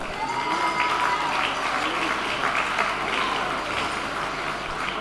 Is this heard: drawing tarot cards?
no